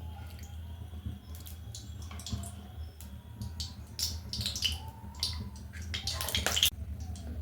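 Three spoonfuls of mustard oil go into a hot karai for a Bengali fish curry, giving a soft, close trickle and light crackle over a low steady hum that briefly rises into a brighter burst near the end.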